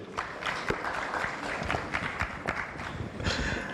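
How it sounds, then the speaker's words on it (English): Audience applause for a panel at a clean energy expo, moderate steady clapping with individual sharp claps standing out, fairly quiet and without talk. "can we just give a very big round of applause to the panel just concluded?"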